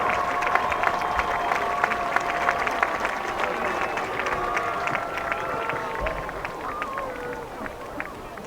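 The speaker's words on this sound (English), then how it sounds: "Let's give them all a round of applause." Crowd at a high school homecoming football game applauding the homecoming court, a dense, steady wash of clapping and cheering held for several seconds, with crowd chatter under it.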